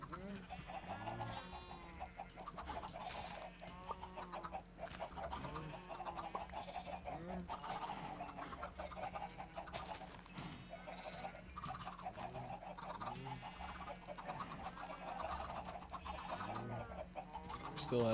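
Minecraft chickens cluck continuously, a dense overlapping chatter of short clucks and squawks from a flock close by, steady throughout with a faint hum beneath.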